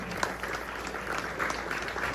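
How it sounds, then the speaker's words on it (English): Steady round of audience applause at a flood relief dinner and concert in Edmonton, a dense, even patter of many hands clapping, moderately distant and unbroken throughout. "Please give a big round of applause to each one of them."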